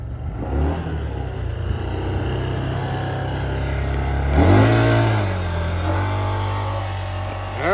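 A CFMOTO off-road vehicle idles with a low rumbling engine, then revs up in a swelling rise and falls back, close and fairly loud, with no clear speech.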